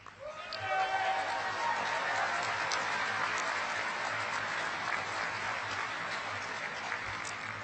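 Audience applause at the On Track Academy 2019 graduation ceremony, a dense, sustained wash of clapping that swells quickly and holds steady before easing slightly, with a brief voice near the start.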